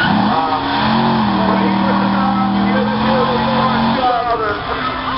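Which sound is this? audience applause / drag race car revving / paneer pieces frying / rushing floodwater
drag race car revving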